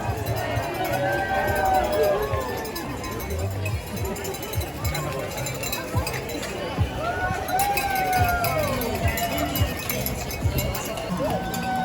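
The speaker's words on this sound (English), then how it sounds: "Let's make some noise for the green crowd!" A race crowd cheers and shouts in the rain throughout, with whoops, voices and a clanging cowbell mixed into a busy, steady outdoor din, and an announcer talking over it.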